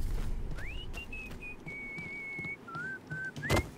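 A character in the video game Mafia 3 whistles a clear, sliding tune of several drawn-out notes with short gaps, heard alone over faint background ambience and ending with a brief sharp noise.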